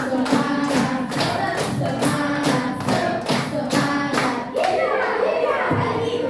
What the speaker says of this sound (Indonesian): Tepuk semangat ala cowboy